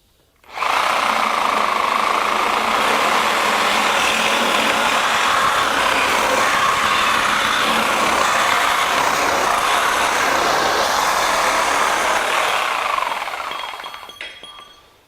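A reciprocating saw fitted with a Diablo Steel Demon carbide blade cuts through thick metal in one loud, continuous, harsh buzzing grind that runs for about thirteen seconds before winding down and stopping.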